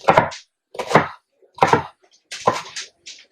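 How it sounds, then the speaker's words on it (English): Knife cutting a handful of celery, leaves and all, into big chunks: five sharp, separate chops at a steady rhythm, close and clear, with short silences between strokes. "So I'm going to take me a handful of celery, cut them in big chunks, leaves and all."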